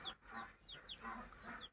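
Several Sonali hybrid chickens cluck softly in short, overlapping calls, fairly close by, with a low murmur of farmyard background throughout.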